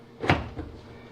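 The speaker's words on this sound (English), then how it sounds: "And this door we lift up" A GE clothes dryer door being lifted off its hinges during a gas-to-propane conversion gives one short, close knock and clunk, with a softer bump just after.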